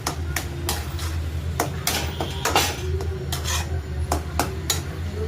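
Cooled vegetable paratha filling mixed with salt is stirred in a bowl: about a dozen brisk, rhythmic scraping strokes of a spoon, close and fairly loud, over a low steady hum, with no voices.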